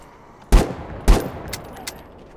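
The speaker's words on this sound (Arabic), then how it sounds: "مسدس" Pistol gunshots in the video game The Day Before: two sharp, loud shots about half a second apart, followed by fainter shot-like clicks.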